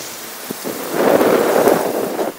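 Heavy cyclone rain with gusty wind pours over coastal West Bengal, a deep rumble of thunder swelling in the middle, the downpour dense and close.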